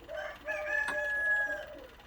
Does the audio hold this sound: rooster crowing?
yes